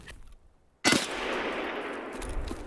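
Gunfire in Escape from Tarkov: a sudden loud burst after a short silence, then a sustained rattling automatic stream of shots for nearly two seconds, close and harsh.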